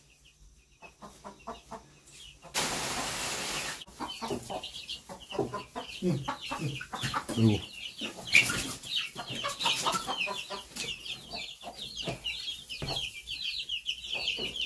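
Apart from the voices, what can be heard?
chickens and chicks clucking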